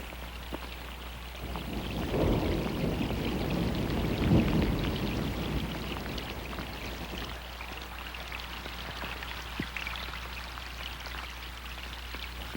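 Rain falls steadily in Ketchikan, Alaska, a soft continuous hiss of drops with a heavier swell in the middle and a low rumble underneath. No one speaks.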